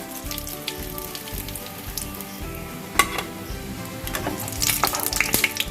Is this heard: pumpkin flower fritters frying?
yes